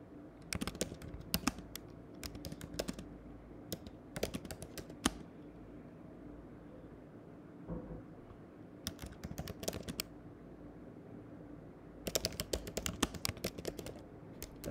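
Fingers type on a computer keyboard, close and quiet, in several bursts of rapid key clicks separated by short pauses.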